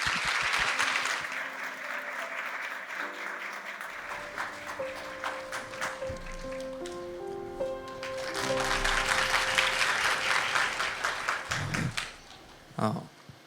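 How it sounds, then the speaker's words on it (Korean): A church congregation at a Sunday service applauds a speaker coming forward, first with a burst of clapping, then with rhythmic claps over sustained music tones, and a voice briefly heard near the end. "나오실 때 큰 박수 부탁드립니다."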